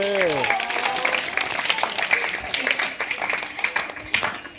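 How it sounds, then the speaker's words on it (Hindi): A group of children at a school assembly clap together in a steady, dense burst that lasts throughout, with a short spoken voice at the start over the clapping. "तालियां तो बजा दो"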